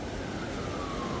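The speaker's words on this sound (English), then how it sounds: "here come the sirens" Emergency vehicle sirens wailing near a bridge, a dense continuous siren mixed with traffic rumble that fills the short moment without pause.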